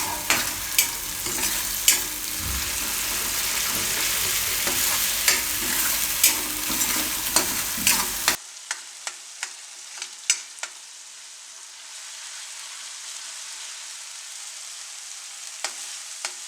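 Eggplant roasts in oil in a pan for a fried olo: a loud, dense sizzle with light spoon taps, then a sudden drop to a much quieter sizzle dotted with sharp clicks.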